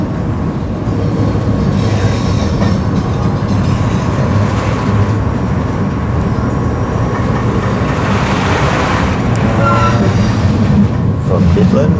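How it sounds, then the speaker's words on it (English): A train pulls into High Wycombe Station on the Midland line, rumbling steadily and loudly with rolling wheel noise and a faint squeal. "got the train coming in"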